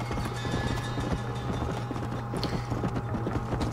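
Rapid hoofbeats of a galloping horse in Red Dead Redemption thud steadily over a constant low rumble, loud and continuous throughout.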